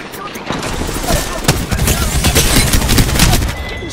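Rapid gunfire in the Apex Legends battle royale game, a dense, loud stretch of overlapping shots and impacts that keeps going from start to finish, with speech mixed in.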